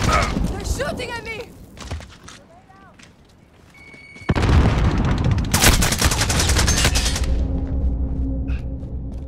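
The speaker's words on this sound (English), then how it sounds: "They're shooting at me." Gunfire in the video game Call of Duty Modern Warfare: bursts of shots and booms, quieter early on, then dense, loud continuous firing from about four seconds, with game voices and radio chatter over it.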